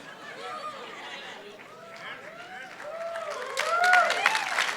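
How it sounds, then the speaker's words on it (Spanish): An audience at a bilingual church gathering breaks into clapping over murmuring voices, the applause swelling louder and denser toward the end. "You'll just clap at anything"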